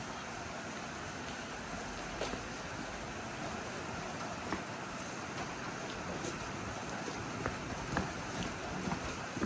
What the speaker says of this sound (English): There's the rail grinder.